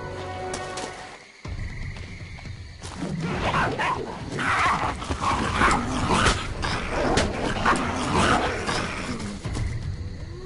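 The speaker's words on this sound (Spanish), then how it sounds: "Otra vez esos malditos perros." Dogs barking in a video game set in an Inquisition monastery, a dense, loud run of overlapping barks and yaps that keeps going after a short pause near the start, with a thick game soundscape underneath.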